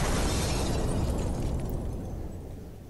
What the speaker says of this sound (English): I hate that sound effect with that glass